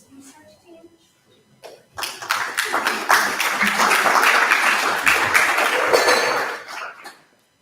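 A conference audience claps for a research team: after a quiet start with faint sounds, a dense burst of applause swells, holds loud and close for several seconds, then tapers off near the end.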